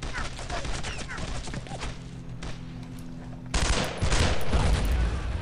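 Gunfire in the WWII shooter Brothers in Arms: Road to Hill 30: a dense, rapid fusillade of rifle and machine-gun shots, loud and close, with a low rumble underneath, growing heavier and louder in the second half.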